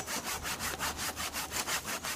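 A homemade DIY hand chainsaw rips through wood in steady back-and-forth strokes, about ten even rasping pulses, close and fairly loud with no talk.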